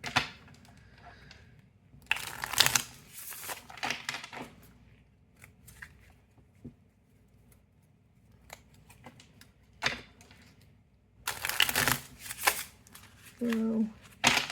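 A deck of Serenity tarot cards is shuffled in a few short riffling bursts with quiet gaps between them, close to the listener, while someone talks over parts of it.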